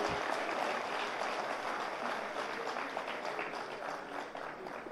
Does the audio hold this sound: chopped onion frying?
no